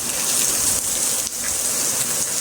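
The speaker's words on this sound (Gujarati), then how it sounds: "તો અત્યારે વરસાદ આવે છે, જોવો તમે, સવારનો ચાલુ જ છે." Rain falls steadily outdoors as a dense, even broadband hiss with a few soft drop taps, and no voices are heard.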